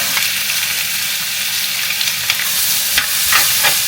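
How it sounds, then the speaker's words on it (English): Chicken sizzling and frying in a hot pan, a loud, continuous hiss with occasional crackles and pops, heard up close with no talking. "Here, I'm gonna put the chicken in."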